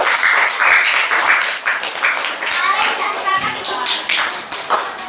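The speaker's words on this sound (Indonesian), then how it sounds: "kita tepuk tangan semuanya." A class of schoolchildren claps hands together in agreement, a lively burst of steady clapping mixed with children's chatter and voices throughout.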